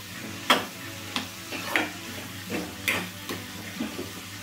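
Onions fry in a pan with salt and turmeric over a low flame, a soft sizzle broken by a series of sharp spatula taps and scrapes at irregular intervals, close by and without speech.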